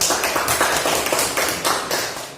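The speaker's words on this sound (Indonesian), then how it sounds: "kita beri tepuk tangan untuk kelompok 1" Students in a classroom applaud a group after its presentation, a steady burst of many hands clapping close by that fades slightly toward the end.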